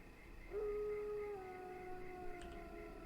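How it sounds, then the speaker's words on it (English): In World of Warcraft, a werewolf lets out one long, drawn-out howl that holds a steady pitch, heard at a distance over a quiet ambient background. "It's a werewolf howling, I presume."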